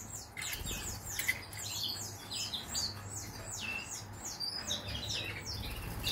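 A small pet hen bird in a breeding setup chirps repeatedly in quick, bright bursts, a steady run of tweets close by over a low hum, with no talking.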